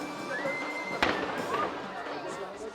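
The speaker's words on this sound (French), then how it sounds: "soutenus par des tirs de canon bruyants. De simples coups de pétard pour un spectacle presque aussi vrai que nature." Firecracker bangs standing in for cannon fire during a mock naval battle between three sailboats in the port of Sète, with one sharp crack and a softer pop over a chattering crowd.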